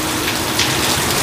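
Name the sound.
heavy rain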